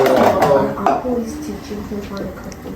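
A utensil clatters and scrapes against a pot as cornmeal ugali flour is mixed into boiling water, loud at first and then settling into softer stirring, with people talking alongside.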